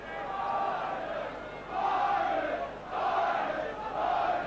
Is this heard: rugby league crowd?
yes